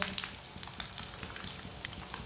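Aloo tikki coated in vermicelli frying in a pan, a steady fine sizzle with constant crackling pops and bubbling oil, close and even throughout.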